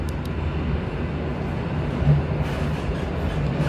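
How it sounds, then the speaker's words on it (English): A moving passenger train travelling from Poland toward Lithuania, a steady, loud low rumble and rolling hum from inside the carriage, continuous throughout with a few faint clicks and no talking. "I'm in the train, it's moving."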